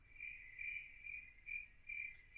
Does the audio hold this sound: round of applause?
no